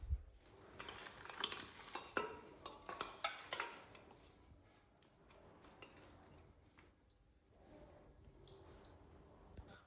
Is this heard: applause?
no